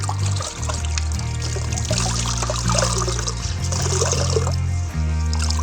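Warm water in a bucket sloshes and trickles as a microfiber rag is dipped and wrung, with steady pouring and dribbling close by over a low hum.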